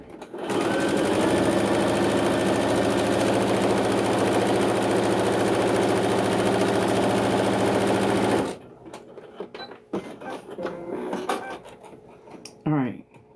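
A sewing machine runs a quick straight stitch down a fabric hem, a loud steady mechanical whir for about eight seconds before stopping abruptly, followed by quieter handling noises and brief rustles.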